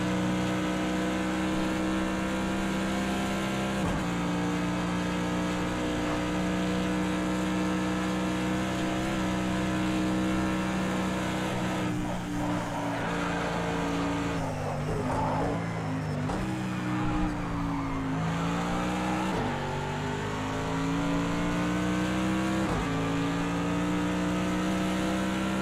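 Simulated race car on the Nurburgring in Project CARS 2, engine roaring continuously with a sustained tonal whine, brief lift-offs and renewed acceleration, close and loud throughout.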